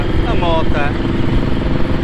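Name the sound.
motorcycles passing by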